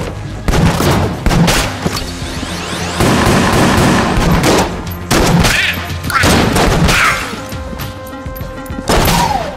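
A gun in the video game Enter the Gungeon fires in loud, rapid bursts of close blasts and crashes, with short pauses between volleys and game effects around them, and no talking.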